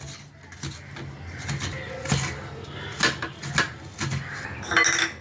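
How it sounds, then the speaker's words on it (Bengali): A coconut is scraped with a handheld grater, producing a series of rough scratchy strokes and light metallic clinks in an irregular rhythm, close and moderately loud. "হাত কুড়ানি দিয়ে খুব সহজে নারকেল কুড়ানো যায়"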